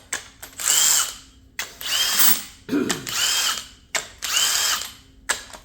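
A power tool removes the tension bolts from a Mazda RX8 Renesis rotary engine that has overheated and blown a water seal, buzzing close and loud in four short bursts with brief pauses and a ratcheting clack between them.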